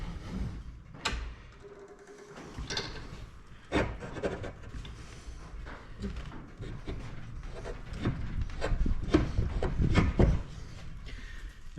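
Metal trailer part from an Ifor Williams trailer brake and bearing job being squeezed in a bench vise, giving scattered creaks, scrapes and clicks at close range with no talk.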